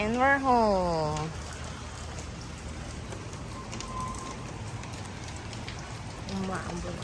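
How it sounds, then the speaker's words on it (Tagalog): Light drizzle during a typhoon, pattering steadily as a soft continuous hiss at moderate distance, with a voice speaking briefly at the start and again near the end. "Umaambon."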